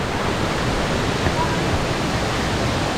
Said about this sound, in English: from here I can see the waterfalls